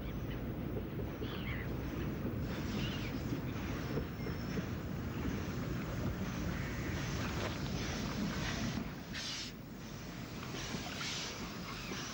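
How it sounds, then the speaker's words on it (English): Vintage Isle of Wight railway scene as a Ventnor-bound train nears Esplanade Station by the seafront, giving a steady, fairly loud rumble of wheels and running gear mixed with broad outdoor wash, easing slightly near the end. "A Ventnor train is approaching Esplanade"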